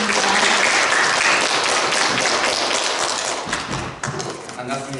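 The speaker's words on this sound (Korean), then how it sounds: "큰 박수 부탁드리겠습니다." Applause from the audience at a children's council plenary session fills the hall with dense, steady clapping that fades somewhat toward the end.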